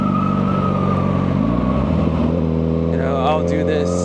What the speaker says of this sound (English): I'm in first gear. Usually I rev it up a little.